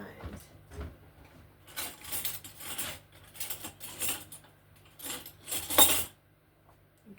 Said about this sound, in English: So I am putting an assortment of different beans in.